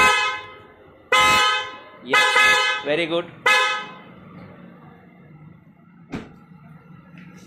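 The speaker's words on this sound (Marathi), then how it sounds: "हे जे हॉर्न बसवलेले आहेत ते हेल्ला कंपनीचे बसवलेले आहेत" A newly fitted Hella car horn sounds four loud, close blasts of varying length in the first few seconds, followed by a short sharp knock and low background hum; someone speaks briefly near the end.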